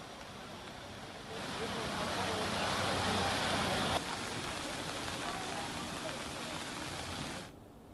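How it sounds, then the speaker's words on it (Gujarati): Heavy rain pours in Modasa, Aravalli, a continuous broad wash of falling water that stays even throughout before dropping off near the end, heard at a faint level. "ધોધમાર બેટિંગ સાથે વરસાદ વરસી રહ્યો છે"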